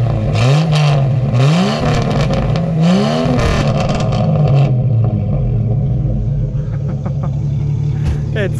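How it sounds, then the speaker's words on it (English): A Jeep XJ exhaust revs loudly from close behind the vehicle, three sharp rising blips over a rough idle that then settles back to a lower rumble, with voices talking nearby. "let's get a nice exhaust from back here."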